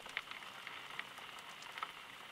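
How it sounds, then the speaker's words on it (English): Rain strikes a forest cabin window in soft, faint, scattered taps and patters over a quiet, steady hiss. "you can see the way the rain strikes the window"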